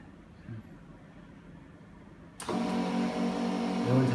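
TBK 763 film laminating machine starting up after its power switch is flipped: faint room noise, then an abrupt loud mechanical whir that runs steadily to the end.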